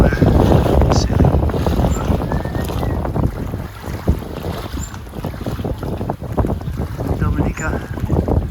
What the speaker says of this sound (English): after 2 hours motoring, we've got enough wind to sail. The engine shut down